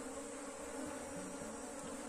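Honey bees buzz steadily around an open hive while new queens are being caught and marked during a split into new colonies, a dense, continuous near drone with no pauses.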